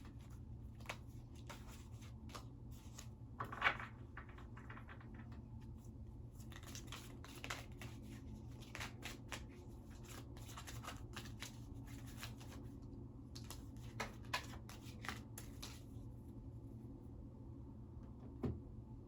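Message cards are shuffled and handled close by in a quiet room: faint, repeated papery flicks and riffles with scattered soft taps, louder for a moment around the middle, and no talking.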